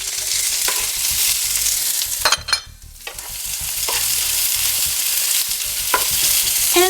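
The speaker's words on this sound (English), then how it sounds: "as the chorizo is cooking, we're gonna put the onions and fry them too." Chorizo and onions fry in a pan for a Spanish paella, a steady close hiss and sizzle running throughout, broken by scraping stirs and the clack of a utensil against the pan.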